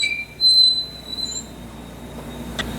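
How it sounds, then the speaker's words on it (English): A squeaky wheel on a 1965 Chevrolet C10 pickup squeals in a high, thin whine, loud at first and then fading while the truck is backed into place, with a faint knock near the end. "Back in we go with our squeaky wheel."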